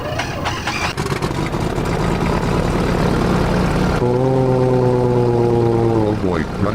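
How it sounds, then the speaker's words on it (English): A boat engine in a video game starts with a rumble and settles into a steady, droning hum that runs loud and continuous, with a tonal buzz after the start. "Now, to start the engine."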